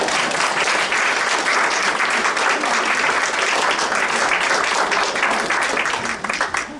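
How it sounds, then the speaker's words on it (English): A large audience applauds at a live Halloween talk, dense sustained clapping filling the room at full strength before it thins and fades near the end. "And all this applause is for you."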